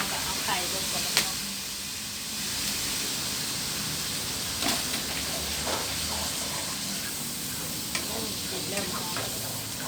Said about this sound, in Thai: กินสุดแล้วเราก็เอาไข่ลงก่อนเนาะ